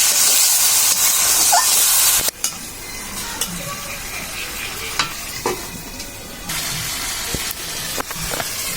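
Shrimp and dal mixture stir-fried in a pan, a steady hiss and sizzle with scraping stirs and occasional clinks, loud and close, without talk.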